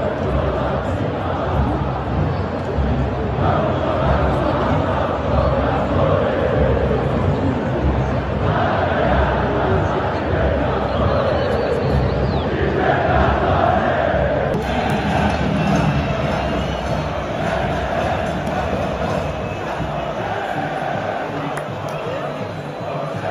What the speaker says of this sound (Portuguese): Só se ouve a torcida do Palmeiras nesse momento